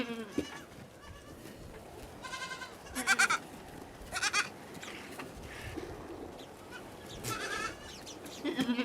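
Goats in a farmyard as kids join their mothers to nurse, several clear bleats rising at intervals over a soft background of shuffling and animal movement, moderately near.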